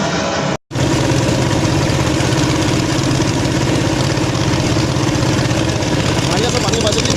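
A motor boat engine runs on the sea, a loud, steady, close drone that cuts out briefly near the start and then continues unbroken.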